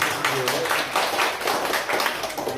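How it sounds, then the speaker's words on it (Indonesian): Congregation clapping during a church sermon, a steady patter of many hands filling the room for a couple of seconds, with voices faintly mixed in. "Kasih tepuk tangan"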